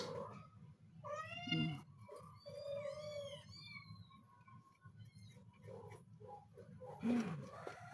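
Cats indoors give several distinct meows, a few drawn-out and wavering, spaced across quiet household background noise.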